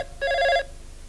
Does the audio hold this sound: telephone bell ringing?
yes